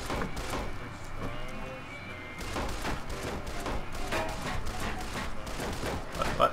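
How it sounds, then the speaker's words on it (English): Gunfire in Fallout New Vegas, a scattered fusillade of shots and thuds in a busy firefight, fairly loud and sustained with a brief lull midway. "Somebody's firing at us."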